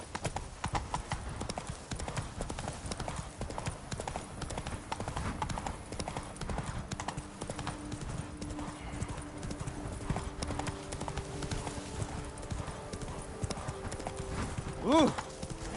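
Roach the horse from The Witcher 3 runs with a steady, fast clip-clop of hooves that continues the whole way through. Near the end comes a short, louder burst that sounds like a whinny.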